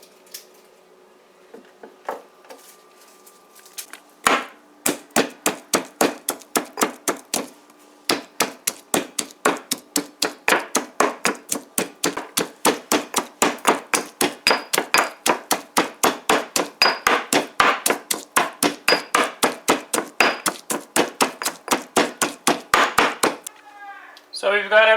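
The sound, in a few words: knife slicing pak choi (baji) stems into thin slices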